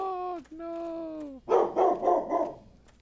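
A pet dog whimpers in long, rising whines and then lets out a short run of barks indoors. A car horn beeping outside sets it off.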